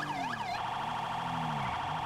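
A fire department emergency vehicle siren in a video game wails in sweeping up-and-down tones that then settle into a steady warble, continuous and fairly faint with no talking.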